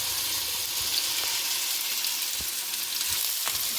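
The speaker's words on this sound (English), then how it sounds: "I'm going to let this fry as it is here" Okra frying in a pot, Trinidad style, a steady dense sizzle with faint clinks and a stir or two, close and continuous with no voices.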